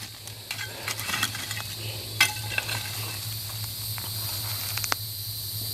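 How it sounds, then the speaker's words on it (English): Oil sizzles in a pan set on a big pile of hot coals, a faint steady crackle with scattered sharp pops over a low hum, close by and without talk. "I can already hear oil sizzling in there."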